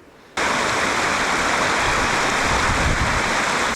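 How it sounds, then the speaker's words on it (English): Water running along a dirt road in cold mountain woodland, partly iced over: after a brief quiet moment, a close, steady rushing wash of water starts abruptly and continues unbroken. "there's water trickling along this dirt road here"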